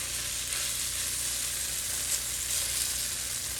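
Tofu stir-fries in a hot pan, giving a continuous, even sizzle with a faint scrape of stirring underneath, close and steady with no talking.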